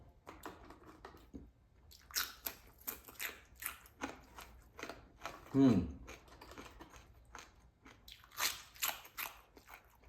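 Someone biting and chewing crunchy fried dried fish (daing), with close, irregular crisp crunches in bursts and one louder bite in the middle.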